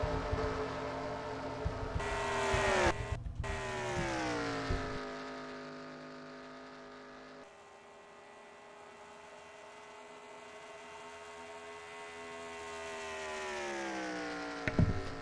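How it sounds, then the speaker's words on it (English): NASCAR-style race cars in a video game race at Ontario roar past in packs, a loud sustained engine drone that rises and falls in pitch as the cars sweep by, with no talking. "Like right here you see about 3 different packs of cars"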